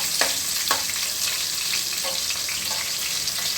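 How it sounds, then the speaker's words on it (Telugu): Green chilli pieces frying in oil in a pan for rice vermicelli, a constant close sizzle and hiss with a couple of brief stirring scrapes, no talk. "ఇవి కూడా కాసేపు అలా వేయించుకోవాలి"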